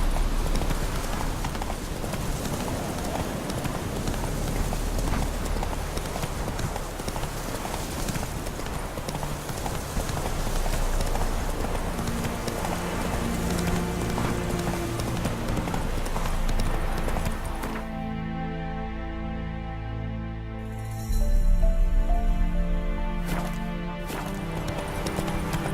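A horse galloping in The Witcher 3, with fast rapid hoofbeats pounding continuously and close, joined later by game music and effects, and a short loud burst near the end.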